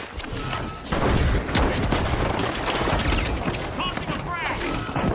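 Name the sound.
frag grenade explosion in a video game (Rainbow Six Siege)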